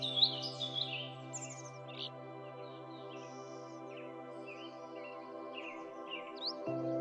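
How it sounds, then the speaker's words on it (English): Small birds chirp and tweet intermittently near Lake Moraine, light high calls scattered over a steady low hum, with no one talking. "The chirping of birds will fill your soul with energy."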